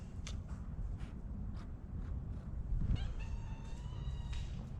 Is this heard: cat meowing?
yes